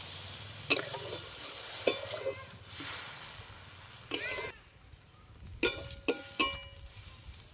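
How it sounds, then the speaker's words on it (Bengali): Water goes into a pan of spiced kuchia fish after the masala is browned, drawing sharp bursts of hissing sizzle amid stirring scrapes and clinks, close and loud with quieter gaps between. "কষিয়ে মাছের মধ্যে জল দিয়ে দিচ্ছি।"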